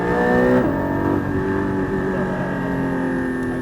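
Engine of a Porsche 718 Cayman GT4 accelerating at Le Mans in a racing game, a loud steady drone with a rising pitch, continuous and close throughout.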